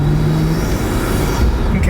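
A Nissan R33 Skyline drives along, its engine humming steadily from inside the cabin with road noise, loud and continuous over a short stretch.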